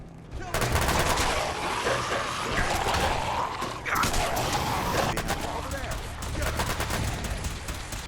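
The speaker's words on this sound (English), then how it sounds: "But he sticks with his laser rifle for the most part as we clear the way to the stockpile." Rapid laser rifle fire in Fallout 4, a dense crackling volley that runs almost continuously with sharp repeated zaps and impacts, while a voice talks over the shooting.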